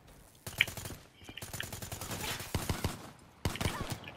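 Bursts of rapid automatic gunfire in Call of Duty: Black Ops III arrive in several close, sharp volleys separated by brief pauses.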